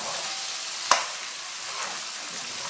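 Onions frying in a cooking pot for a Réunion chicken carry, a steady broadband sizzle with one sharp scrape of stirring near the start, moderately close and without voices.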